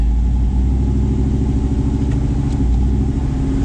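1969 Dodge Charger engine pulling in first gear, a loud, steady low rumble close by with no talking.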